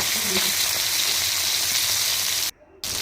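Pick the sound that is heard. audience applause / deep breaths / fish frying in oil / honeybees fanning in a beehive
fish frying in oil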